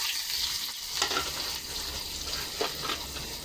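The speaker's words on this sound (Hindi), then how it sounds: "अब मैं इसमें डालूंगी कांदा।" Chopped onion fries in hot oil in a home kitchen pan, giving a continuous bright crackling sizzle with a few light stirring scrapes, close and fairly loud, with no voices.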